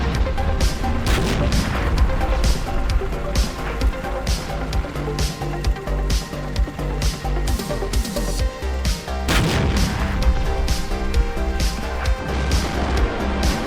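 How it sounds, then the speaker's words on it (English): Tank gunfire in the war game Armored Brigade II, with an M48 Patton tank and a tank destroyer firing on a BMP and a T62: repeated loud booming shots and crashing impacts in irregular bursts, some overlapping, with a rumbling battle din between them. "my tank destroyer is going to engage a BMP while my M48 Patton tank is going to engage a T62"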